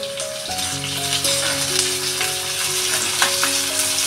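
Onion and chillies frying in oil for spicy dal with okra, a loud crackling sizzle over a steady background of sustained musical tones, close and constant, without speech.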